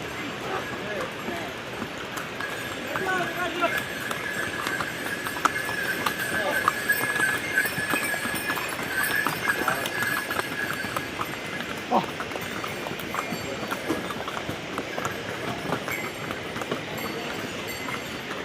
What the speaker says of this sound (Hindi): और यहाँ पे आप देख रहे हैं काफ़ी मात्रा में घोड़े खच्चर चलते हैं।